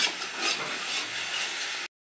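Water hits frying chicken masala in a hot pan, setting off a loud, close burst of hissing sizzle that fades slightly over about two seconds, with no speech.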